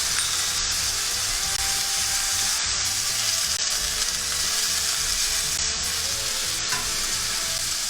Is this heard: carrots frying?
yes